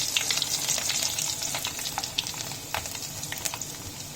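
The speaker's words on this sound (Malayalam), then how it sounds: "നമ്മൾ കടുക് പൊട്ടി തുടങ്ങി" Mustard seeds splutter in hot oil while tempering for Kerala-style coconut chutney, a dense, continuous crackle of quick pops over a steady frying hiss, close and fairly loud.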